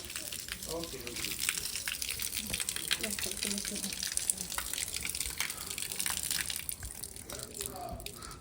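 Cold tap water gushing out at Nandi Hills as feet are rinsed, a continuous rushing splash with voices chatting over it.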